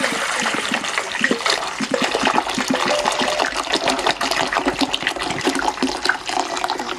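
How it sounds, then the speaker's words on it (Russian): Hot water poured into a container to make a brine, a close splashing, gurgling stream that goes on for several seconds with no talk. "Наливаем горячую воду."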